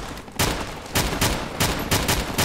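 Pistol gunfire in the video game Fallout New Vegas: four loud, sharp shots in an uneven rhythm, each a broadband crack with a brief ringing tail, close and alone with no talk.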